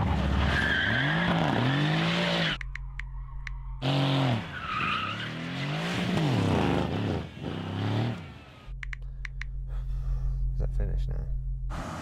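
BMW M3, Mercedes-AMG C63 and Audi RS4 V8 engines roar and rev with tyres squealing and skidding as they warm up their tyres before a drag race, interrupted by brief quieter gaps; the sound is loud and varies in pitch.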